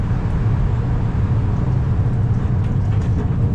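A Miami Metromover train pulling out of 11th Street Station, heard from inside the car: a steady, loud, low rumble and hum of the running train with no break, close around the listener, with no voices.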